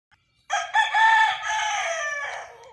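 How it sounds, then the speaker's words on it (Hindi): A rooster crows loudly and close by in a long, drawn-out cock-a-doodle-doo, rising sharply and then holding its strained tone before trailing off, with no talking over it. "मेरी हर वीडियो में इस मुर्गे की आवाज़ आपको ज़रूर सुनाई देगी"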